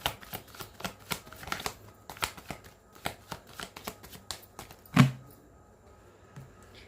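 A deck of tarot cards shuffled close by: rapid rhythmic riffling flicks for several seconds, then one sharper slap as the deck is squared, with no talk.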